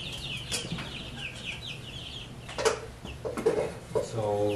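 Meat chickens in a homestead brooder flock cluck and chirp in scattered bursts close by, mixed with clattering and handling noises and a person talking.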